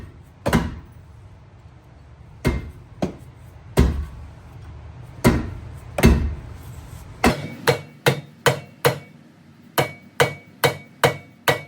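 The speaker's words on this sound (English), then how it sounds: "we did have to bring out a metal hammer, but we got it" Metal hammer striking the rear subframe of a 2009 Pontiac Vibe GT, with sharp metallic blows at first spaced irregularly, then settling into a fast, steady run of evenly timed hits, loud and close with no talk.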